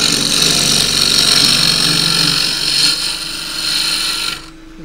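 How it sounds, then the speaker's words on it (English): A wood lathe spins a casuarina bowl blank as a half-inch spindle gouge cuts the inside, giving a steady, loud, bright hiss of tool on wood that runs continuously before the cut stops near the end. "Half inch spindle gouge."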